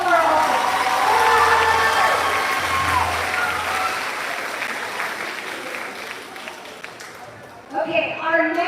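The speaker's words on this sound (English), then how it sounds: "A round of applause for all of them." Audience applause at a middle school spring concert, a sustained round of clapping from a large crowd that fades gradually, with voices over it and a speaker resuming near the end.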